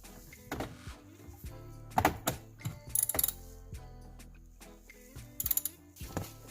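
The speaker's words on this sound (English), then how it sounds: "Now I'm gonna have to go ahead and pull that bolt off so that we got a ground connection there." A ratchet wrench clicks in short bursts while loosening a ground bolt on a 2021 Ford F150 Lightning during a remote start kit install, close and crisp with pauses between strokes.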